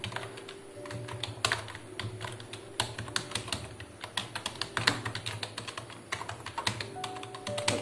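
An authorization letter being typed on a computer keyboard, with quick, uneven clusters of clicking keystrokes, close and moderately loud, running throughout with short pauses between bursts.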